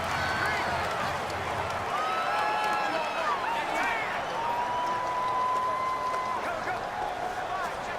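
Stadium crowd roaring during a Madden NFL 19 football game, a steady dense wash of cheering and noise with whistles and calls rising above it, while a voice talks over it.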